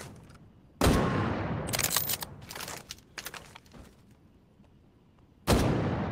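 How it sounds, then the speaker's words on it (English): Two loud, sharp K98K scoped sniper rifle shots in the World War II shooter Medal of Honor: Above and Beyond, spaced several seconds apart, with bolt-action clicks and clatter between the blasts. "This is a K98K with a sniper scope."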